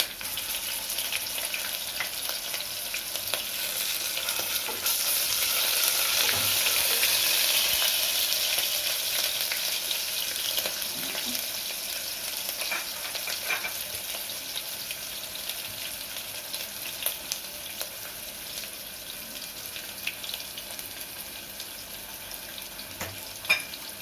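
Ginger garlic paste sizzles in a hot pan while frying for biryani, a continuous, even crackling hiss that holds steady for over twenty seconds with occasional faint stirring clicks.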